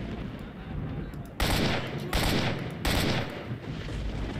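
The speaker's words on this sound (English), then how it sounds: "Okay, your shotgun can hit from that far." Three loud, sharp shotgun blasts in S.T.A.L.K.E.R.: Shadow of Chernobyl ring out in quick succession about three quarters of a second apart, each booming over a low ambient game backdrop.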